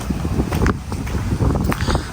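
Cold wind gusts across the microphone in a village with livestock, a loud, continuous rumbling buffet with faint rustling and no speech.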